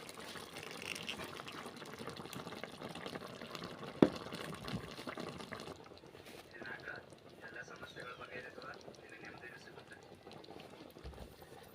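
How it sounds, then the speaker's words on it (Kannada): Water pours into a pot of simmering chicken gravy, a steady bubbling gush that runs for several seconds. A sharp clink lands near the middle, and the flow then settles into quieter boiling. "ಈಗ ಸ್ವಲ್ಪ ನೀರು ಹಾಕ್ಕೊಂಡು"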